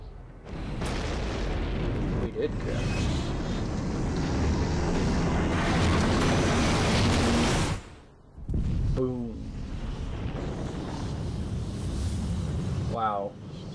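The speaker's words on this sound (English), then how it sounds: "Wouldn't everybody die in an explosion that big?" In Final Fantasy IX, an airship crashes with a big explosion, a loud, sustained roaring blast that cuts off abruptly, then a second rumbling burst follows with faint game sound effects.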